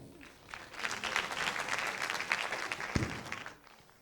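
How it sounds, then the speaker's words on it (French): Audience applause for a contestant at a televised Burkina Faso music talent competition quarter-final, a steady dense clapping swell that holds for about three seconds, then fades, with crowd noise underneath. "Honorine, applaudissements."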